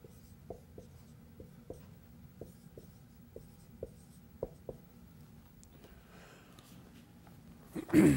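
Chalk or marker taps and scratches on a classroom board during a physical science lecture, sounding as faint, sparse, regularly spaced strokes in a quiet room, with a brief louder noise at the end.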